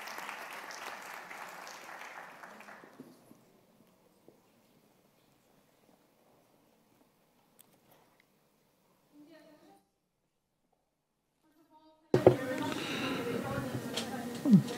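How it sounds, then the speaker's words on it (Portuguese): Audience applause at a notaries' congress round table, heard as steady clapping that fades out, then a stretch of near silence before a fresh, louder burst of clapping returns. "Peço o vosso aplauso para a Naivi Barreda"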